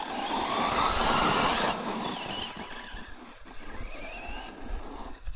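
A Raptor 4S radio-controlled car slides around a slippery dirt track. Its motor whines loud and close at first, then fades and rises in uneven bursts of revving and skidding.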